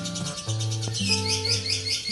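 A white-rumped shama (murai batu), a captive-bred contest songbird, sings in a steady run of quick, bright chirps and trills that repeat throughout, close and clear over a low tonal background.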